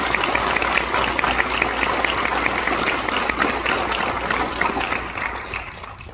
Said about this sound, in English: Please join me in a big round of applause for all of our graduates